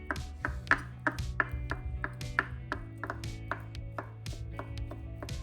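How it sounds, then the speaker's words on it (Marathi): Knife finely chopping boiled egg whites on a board for an egg mayo sandwich, a steady run of crisp, close taps repeating for several seconds with a faint background hum and no talking. "या अंड्याचा हा पांढरा भाग आता आपण सुरीच्या सहाय्याने असा बारीक चिरून घेऊ"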